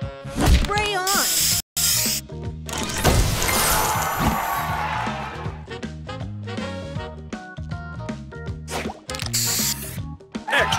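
Spray booster effect in the Match Masters mobile puzzle game: a loud burst of hissing spray and crashing tile clears amid bright jingly game chimes and music, with a synthetic announcer voice calling out between effects.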